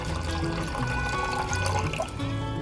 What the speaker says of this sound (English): Adding 1 cup of apple cider vinegar.